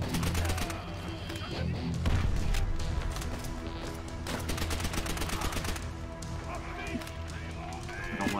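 Gunfire rattles through a Call of Duty: World at War campaign battle: dense, loud bursts of rifle and machine-gun fire with explosions, overlapping almost without a break, and voices mixed in among the shooting.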